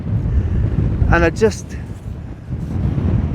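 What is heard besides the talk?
gale force wind at coastal lighthouse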